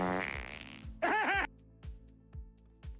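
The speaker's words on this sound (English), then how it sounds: "for farting on my head" A fart at a card game design session: a sputtering buzzy burst, then a short loud rasping blast, set against a few soft thumps and tapping noises.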